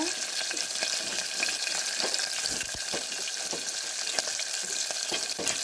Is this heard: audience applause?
no